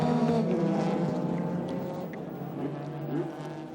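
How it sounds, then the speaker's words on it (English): The engine of a Toyota MR-S race car drones and revs unevenly in the distance, pitch wavering up and down over a steady mechanical hum, revving without drive, with no voices. "Engine's revving, but no drive."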